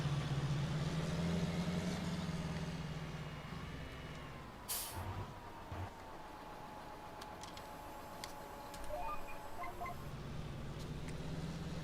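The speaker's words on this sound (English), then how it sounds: "You hear that John Deere's engine kind of muffle down?" A John Deere tractor engine in Farming Simulator 19 drones steadily while climbing a hill, its tone dropping and muffling partway through before rising again, with a short hissing burst in the middle.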